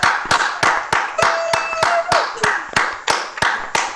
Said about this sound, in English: applause for everybody.